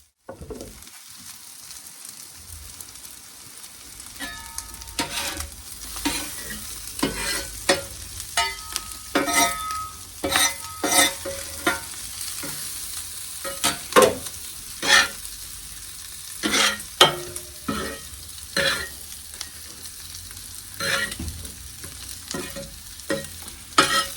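Hot dogs and onions fry on a griddle with a soft, steady sizzle, punctuated by frequent sharp scrapes and clicks of a spatula stirring and turning them, close by with no talking.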